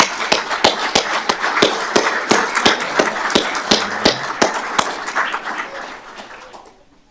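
A round of applause from the audience at a fire and rescue service awards ceremony: dense, steady clapping for several seconds that thins and fades out near the end.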